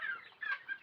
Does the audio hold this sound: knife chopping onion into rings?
no